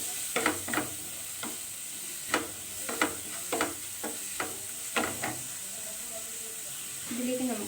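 Dry fish masala stirred in a pan, a run of sharp scraping strokes at an uneven pace over a low sizzle, close and fairly quiet, with a brief soft voice near the end.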